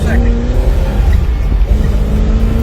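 A 1969 Dodge Super Bee V8 pulls hard under acceleration and shifts into second gear from inside the cabin, with a loud, steady low engine drone throughout and a voice speaking over it.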